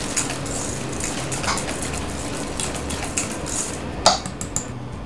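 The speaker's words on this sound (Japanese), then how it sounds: "薄力粉とコーンスターチをの卵黄の中に入れてしっかり合わせていきます。" Light clinks and scraping taps of a whisk against a bowl, mixing egg yolks with cake flour and cornstarch steadily in a quiet kitchen, with one sharper clink near the end.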